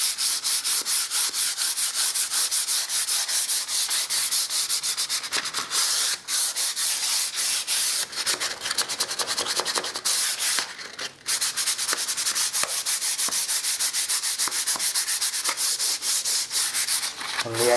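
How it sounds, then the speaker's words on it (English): Sandpaper of P180 grit rubbing over a painted wall being prepped to cover water stains, a steady close scratchy rasp of continuous strokes running throughout with brief pauses, no talking. "I'm actually going to give it a sand over this time with a bit of P180."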